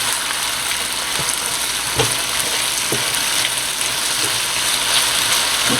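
Beef coated in flour sizzles in a pan, a loud, continuous close frying crackle with occasional soft pops and stirring knocks, with no talking.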